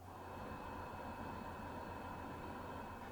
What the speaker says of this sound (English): Even if you just leave the inverter on with no load for more than just a few minutes, it will emit a low volume white noise.